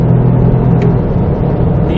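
A Toyota GR Yaris engine drones loud and steady at high revs, a dense continuous rumble through a quick upshift with no clear break, close and full throughout.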